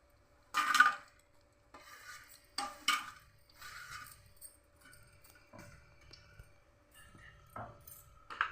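Homemade herbal hair oil with leaves being stirred in a pot, giving soft intermittent scraping and rubbing strokes with occasional light clinks against the pot, fairly quiet and close.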